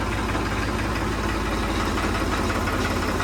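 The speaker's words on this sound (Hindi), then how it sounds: "अब ट्रैक्टर को बाहर निकालते हैं" A tractor engine idles as it is driven out of a home yard, a steady low rumbling drone with a constant knocking pulse, close and even throughout with no talk.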